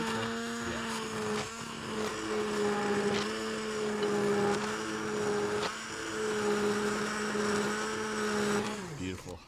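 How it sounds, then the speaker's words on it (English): A blender purees cooked dal, a steady high motor whine with strong buzzing tone that holds for several seconds, dips briefly, resumes, then winds down at the end. "and now we can blend up our dal"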